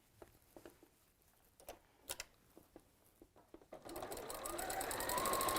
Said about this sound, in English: So you're going to sew them around the outside edge with the seams open.